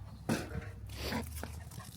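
A pet dog gives a sharp yelp or bark followed by whimpering and panting sounds, close by, with a brief human vocal sound mixed in.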